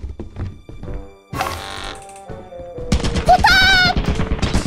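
Turret fire in a video game: a few dull thuds, then a loud broadband blast, followed by a dense, rapid run of sharp shots with ringing electronic tones, all close and loud.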